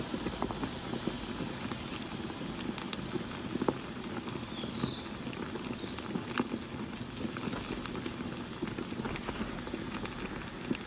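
Pork ribs being mixed by hand with seasoning and cornstarch, a continuous soft wet squelching and patting of meat in a bowl, steady and close, with no talking.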